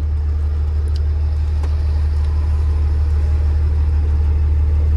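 Steady, loud low engine rumble of a road vehicle close by, droning throughout without a clear pass-by swell, no voices over it.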